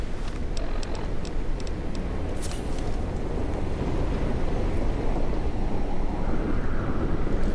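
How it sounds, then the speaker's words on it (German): Steady gusting wind from a storm in the video game Fallout New Vegas, a dense, continuous low rush that holds at an even level throughout with no speech. "Kann das sein, dass es ein bisschen windig ist gerade?"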